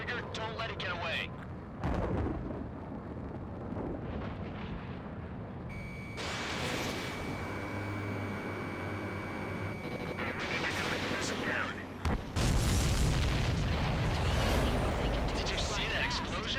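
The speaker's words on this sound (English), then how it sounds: "Did you see that explosion? Looks like that's one of them down." In the Ace Combat 7 flight game, a supply ship blows up with heavy, sustained rumbling blasts. The explosions sit under roaring jet and combat noise, and radio chatter runs over them.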